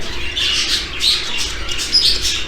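A pet bird squawks and chirps repeatedly at close range, loud shrill calls coming in uneven bursts over a steady background hum.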